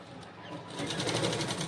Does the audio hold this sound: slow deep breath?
no